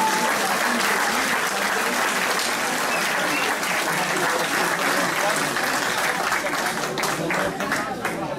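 Sustained, dense applause from a kickboxing event audience fills the hall steadily for several seconds, loud and continuous, with crowd noise mixed in.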